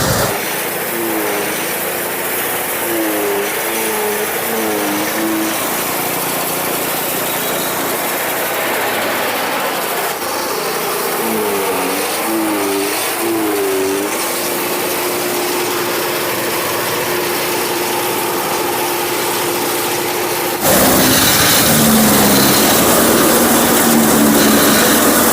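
A bike-based power tiller harvests a fallen paddy crop in the field, its engine droning steadily and loudly throughout with a wavering pitch, and it grows slightly louder near the end.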